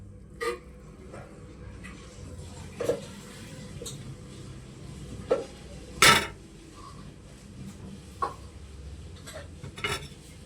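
Knife knocks on a board or dish as a ripe mango is cut up for halwa: sparse, separate taps and clinks, with one sharper scrape near the middle, over a quiet kitchen background.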